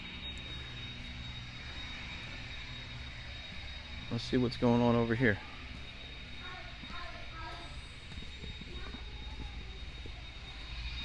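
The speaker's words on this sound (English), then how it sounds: "I hear airplanes." Aircraft engines drone steadily near Miami Executive Airport, with a louder mechanical burst partway through and someone speaking briefly over the outdoor noise.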